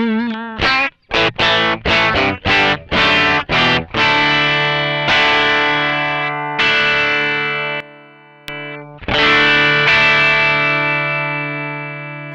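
Electric guitar played through a Joyo American overdrive pedal, loud and driven: a run of short chopped chords, then longer ringing chords with brief gaps and a final sustained strum, no talking.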